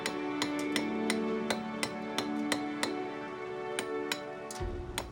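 A hammer strikes a chisel carving the ink well into a stone inkstone by hand, a steady series of sharp, ringing taps about two per second, close and clear, with a low thud near the end.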